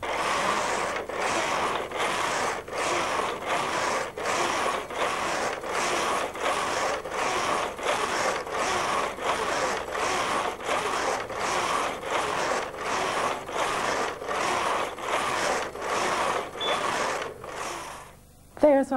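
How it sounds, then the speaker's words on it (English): A Brother knitting machine runs a patterned row, its carriage sliding back and forth with a steady whirring, clicking mechanical rhythm of regular pulses for most of the clip before it stops near the end. "the machine is telling us it's ready to knit the pattern"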